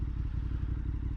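Motorcycle running on a road at a steady low drone, a continuous engine rumble with faint clatter and no voices over it.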